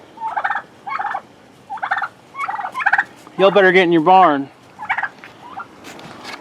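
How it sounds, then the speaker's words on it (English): Three turkey hens and a peacock hen on a snowy homestead, with repeated short bursts of gobbling calls and one longer, louder wavering call in the middle, close by, with a brief shouted voice among them. "3 turkey hens and a peacock hen."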